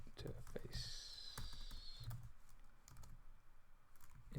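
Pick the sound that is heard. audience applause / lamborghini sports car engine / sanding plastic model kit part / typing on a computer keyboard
typing on a computer keyboard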